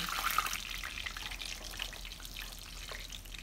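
Steady crackling sizzle of paçanga börek pastries frying in oil, a dense bright hiss running continuously without pause, fairly close.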